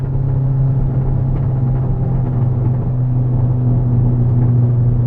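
A Ford Fiesta ST running a straight-pipe exhaust drones with a loud, constant low engine hum and road rumble, heard from inside the car at steady speed without any voices.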